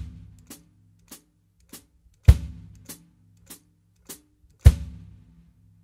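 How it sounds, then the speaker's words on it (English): Drum kit feet playing a Bembe ostinato: steady evenly spaced hi-hat foot chicks with a heavier bass drum thump landing on the one of each cycle, close and dry with no voices. "So the ostinato with the feet for the Bembe sounds like this."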